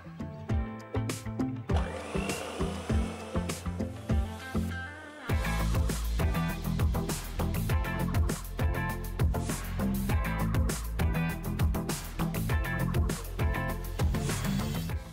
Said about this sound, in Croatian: U bjelanca dodajemo pola količine šećera i čvrsto umutimo